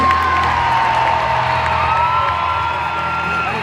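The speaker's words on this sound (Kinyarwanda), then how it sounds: "Reka dukomere Imana amashyi." A church crowd at an Easter Jubilee celebration claps and cheers loudly and continuously, dense whoops and applause merging into a sustained roar, with no one speaking.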